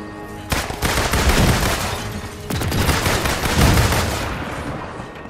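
Sustained bursts of gunfire in the superhero video game Marvel's Avengers, loud and close, with broadband volleys breaking out around half a second and again near two and a half seconds, continuing in rapid overlapping shots.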